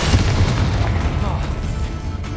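Bombarda spell explosion in the video game Hogwarts Legacy, a heavy booming blast with a rumbling tail that fades quickly, over a dense low game background, with talk.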